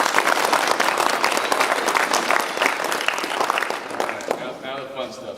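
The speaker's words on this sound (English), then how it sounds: "I just want to give you a round of applause for the great things you've done." An audience at a Scout troop award ceremony claps steadily for Eagle Scouts, a full round of applause that holds evenly and fades slightly at the close.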